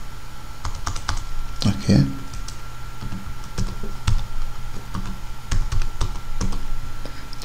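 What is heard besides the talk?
typing an email and password on a computer keyboard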